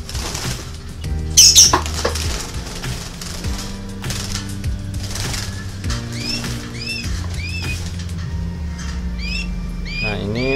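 Canaries in an aviary flapping their wings during capture, a burst of close fluttering followed by steady wingbeats, with squawks and chirps scattered over a busy mechanical background.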